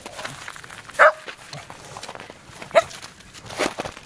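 A dog gives two short, sharp barks about two seconds apart, fairly close and standing out over a steady background hiss.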